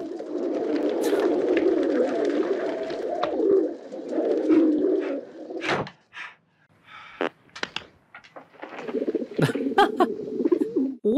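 Pigeons coo in a film scene, a dense low murmuring of several birds for several seconds, then a pause broken by flutters and thumps before the cooing resumes near and fairly loud.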